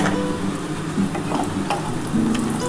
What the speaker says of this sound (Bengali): এই তেলের মধ্যে আমি এই যে বড়িটা ভেজে নিচ্ছি